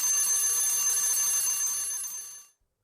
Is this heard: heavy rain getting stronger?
no